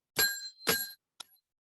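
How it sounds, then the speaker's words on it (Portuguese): A bicycle-style bell rung three times in a quiet room during a children's counting lesson, two long ringing dings followed by a short, softer third tap. "Quantas vezes eu apertei a campainha? 3 vezes."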